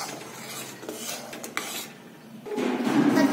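A spoon stirs and scrapes through jaggery syrup with cardamom powder in a pan, soft rubbing strokes that grow louder and denser toward the end.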